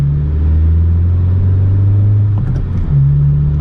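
A car with an Acuity shifter on a test drive, its engine humming loud and close, the pitch rising as it accelerates, dipping briefly around a gear change and then pulling again, with no talking.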